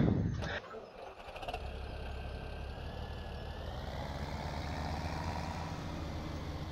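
A tractor engine in the Farming Simulator 17 video game starting up after a brief knock, then settling into a steady low idle that holds evenly throughout.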